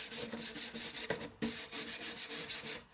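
Rust is scrubbed off a metal surface in fast, rhythmic abrasive strokes, loud and close, with a brief pause partway through before the rubbing resumes.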